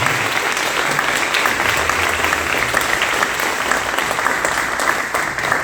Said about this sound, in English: please could we give a clap and recognise Grania for her thanks